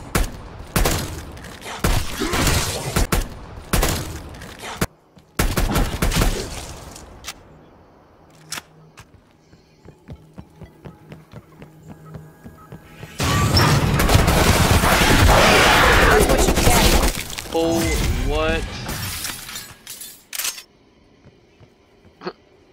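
Gunfire from Cold War Zombies play, bursts of shots fired at zombies crackling in rapid clusters with quiet gaps between, then a long dense stretch of louder overlapping game noise near the end.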